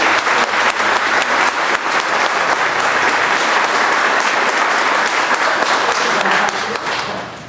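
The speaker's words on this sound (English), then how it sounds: "let's all give a round of applause for Mary Lou." Sustained applause from an audience at a Memorial Day event in West Mansfield, Ohio, dense and steady throughout before tapering slightly at the very end.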